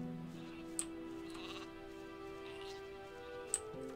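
Sheep in a farmland scene of the video game Gothic 2 bleat in a soft, steady wavering tone, with two sharp ticking clicks standing out over the quiet background.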